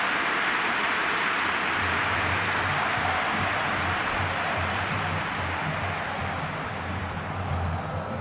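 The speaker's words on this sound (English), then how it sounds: "Rain starting to fall here." Rain falls during a PES 2021 football match, a steady, even wash of hiss that stays level throughout without pauses.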